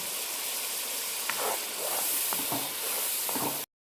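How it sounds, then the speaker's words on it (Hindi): Spiced masala of turmeric, coriander powder and salt frying in a pan for a desi chicken and lentil-dumpling curry, a steady close hiss and sizzle with small spits and crackles throughout, no talking. "देखिए, हमारा मसाला अच्छी तरह भून चुका है"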